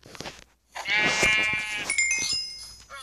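Sheep in the Minecraft video game bleating once, a clear wavering bleat close by after a short pause, with game clicks and soft background noise around it and no talk.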